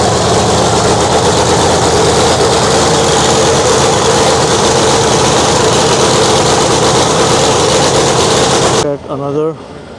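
A loud, steady drag-racing funny car engine idles continuously at close range in the pits of a drag strip, with heavy low-end vibration, then cuts away abruptly near the end as a brief voice appears.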